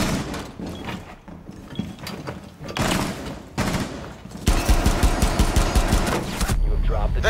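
Rapid bursts of gunfire in the Rainbow Six Siege Chalet bomb map, loud and dense in the second half, with scattered shots and mechanical clatter earlier and a voice talking intermittently.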